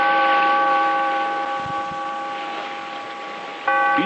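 A bell tolls with a long, ringing tone that slowly decays, then a second stroke rings out near the end, clear and resonant.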